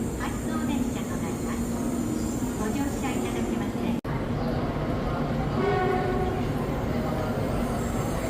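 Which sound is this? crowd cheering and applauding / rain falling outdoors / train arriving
train arriving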